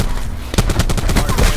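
Rapid automatic fire from the Reaper gun in Black Ops 4, a fast, loud, close burst of evenly spaced shots continuing without pause.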